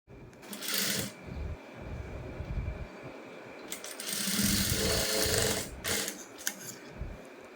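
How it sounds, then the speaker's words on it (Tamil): A sewing machine runs in steady bursts while stitching around the neckline of a lined blouse, its close, rapid mechanical whirr stopping and starting. "இப்போ நம்ம நெக்லைன் சுற்றிக்கும் நம்ம இதே மாதிரி ஸ்டிச் பண்ணிட்டு வந்ததுக்கப்புறமா"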